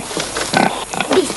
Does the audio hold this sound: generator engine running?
no